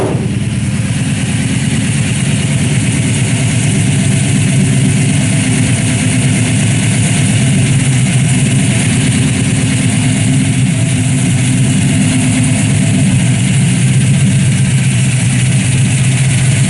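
A 1967 Pontiac Tempest resto-mod idles steadily through a 3-inch exhaust with Flowmaster 50 series mufflers, a loud, close, even throaty rumble that holds without revving.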